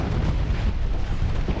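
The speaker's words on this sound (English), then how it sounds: "I think their explosion might have damaged me a little bit" A spaceship blows up in the space combat game Starsector with a loud, sustained rumbling roar that fills the whole moment, heavy and low, with no speech over it.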